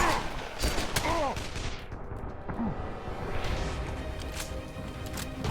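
Gunfire in the video game Dead Island: a cluster of sharp, loud shots cracks in quick succession at the start, then scattered reports and whooshing effects follow under a continuous noisy background.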